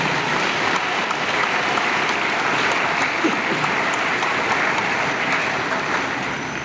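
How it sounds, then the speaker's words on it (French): An assembly at a Mass applauds loudly for the cardinal, a thick continuous roar of clapping that holds steady from start to finish. "Je voudrais demander à l'Assemblée ici présente d'applaudir très fort pour le cardinal."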